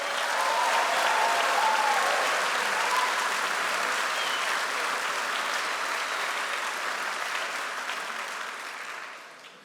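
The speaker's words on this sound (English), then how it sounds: "So I think you should all give yourselves a round of applause." Graduates at a Ravensbourne University London graduation ceremony for the Class of 2020 give a long, steady roar of applause that carries on for nearly ten seconds before fading away.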